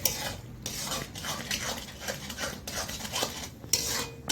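Coconut being stirred into a sweet sugar mixture in a pan for sweet potato and pointed gourd pitha, with repeated scraping and clinking of a utensil against the pan at close range and no talk.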